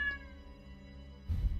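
A cat lets out a short meow near the start, faint against a steady tonal game soundtrack, with a louder burst of noise at the end.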